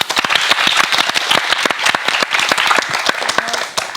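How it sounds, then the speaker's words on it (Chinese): An audience claps for guests on a Taiwanese talk show about bullying: loud, close, crisp individual claps from a modest crowd, densely packed and tapering slightly near the end. "我们各位小欧们给他们一点掌声好不好？"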